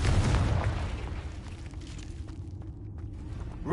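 Blasting-spell explosion in Hogwarts Legacy: a loud, deep boom at the start that rumbles and slowly decays, with a sharp new burst rising right at the end.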